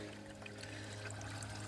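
A small stream's water trickles and pours steadily as a large silver George III half crown coin is dipped into it, with a constant low hum underneath.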